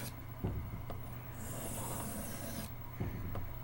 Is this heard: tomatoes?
no